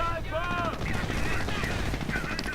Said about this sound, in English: Stug 4 opening fire on these engineers